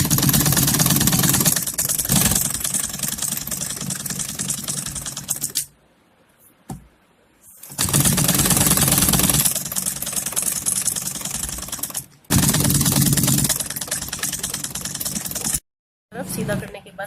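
Sewing machine stitching the edge of a small dhoti for a Kanha Ji dress, giving a steady close mechanical whirr in three long runs broken by brief pauses and stops.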